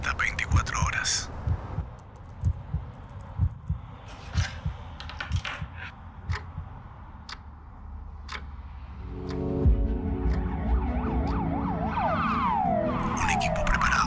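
An ambulance siren wailing in rising and falling sweeps, coming in during the later part over busy background sounds and music-like thumps, moderately loud.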